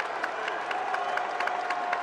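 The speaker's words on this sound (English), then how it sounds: "Everybody's clapping, and down he goes." Steady crowd applause fills a baseball stadium during an Orioles–White Sox game, a dense continuous patter of many hands clapping at moderate distance with no clear voices on top.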